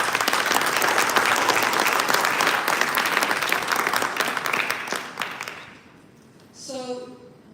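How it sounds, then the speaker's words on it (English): A conference audience at an Erasmus Mundus association general assembly breaks into loud, sustained applause that gradually fades out, followed by a brief voice near the end. "A warm applause to these people."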